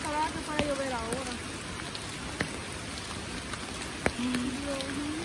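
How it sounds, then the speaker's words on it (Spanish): Rain pours steadily outdoors in early November, a constant broadband patter with occasional sharper drop hits, with faint voices speaking through the downpour. "Sí, sí, hoy sí está lloviendo"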